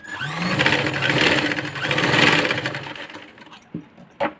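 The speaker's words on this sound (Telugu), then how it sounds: "ఇక్కడ కార్నర్లో ఇలా మడత పెట్టి డబల్ స్టిచ్ వేసుకోండి" A sewing machine double-stitches the folded corner of a ruffled pillow cover, whirring steadily for about three seconds before stopping, followed by a couple of sharp clicks.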